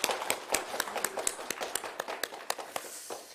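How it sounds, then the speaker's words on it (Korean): A church congregation claps in a steady patter of overlapping hand claps after a sermon, fairly close, with no talking, slowly thinning toward the end. "우리 감사의 박수 한번 치겠습니다"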